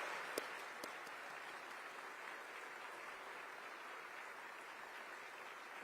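Large crowd at the inauguration of Connecticut Governor Ned Lamont applauding state constitutional officers, a faint, distant, continuous wash of clapping with no talk.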